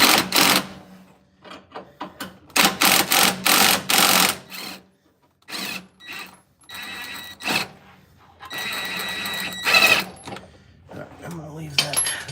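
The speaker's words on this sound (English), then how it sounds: "I use my torque wrench to loosen." A ratcheting torque wrench loosens front axle bolts, giving bursts of sharp, close metallic ratchet clicks in uneven strokes with silent gaps, mixed with some talk.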